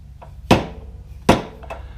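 Two sharp metallic hammer blows land about 0.8 seconds apart on the rear wheel parts of a Can-Am Spyder RT during tire removal, loud and close, each with a short ringing tail.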